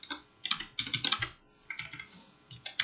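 Rapid clicking keystrokes on a computer keyboard in two close bursts separated by a short pause, as programming code is typed out.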